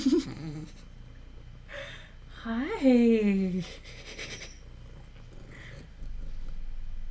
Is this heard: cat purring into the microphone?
yes